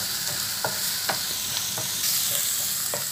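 Sliced onions sauté with dried netholi anchovies in a pan for a chutney, giving a continuous close sizzle with several sharp stirring scrapes spaced across it, and no one speaking.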